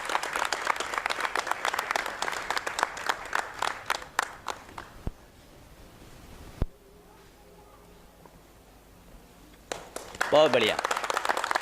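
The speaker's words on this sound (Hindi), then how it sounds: "लेकिन एक ज़ोरदार ताली हो जानी चाहिए" Audience at a Hindi theater play event claps in scattered bursts, then the noise fades to quiet before a short burst of sound returns near the end, with a brief spoken remark.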